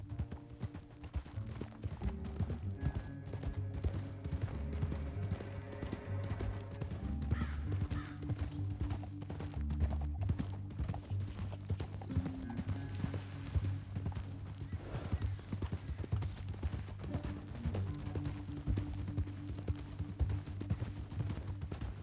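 Horse hooves clip-clop steadily on the ground in the video game Red Dead Redemption 2, a continuous rhythmic trotting close by over low music and ambience, with an occasional snort.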